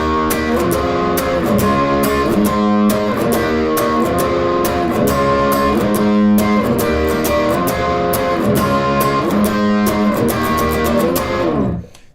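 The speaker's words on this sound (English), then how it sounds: "That's the intro guitar part." An electric guitar plays an intro riff with distorted power chords and a driving strummed rhythm, loud and close, with no one talking, ending in a quick cutoff.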